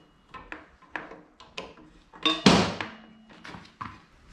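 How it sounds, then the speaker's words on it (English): Metal and hardware knocks sound during work on the rear brake of a Herald Mutt 125 motorcycle as the caliper is slid aside: a series of close, irregular taps and clunks with one louder scrape partway through. "Unhook the chain, then slide the rear caliper out of the way."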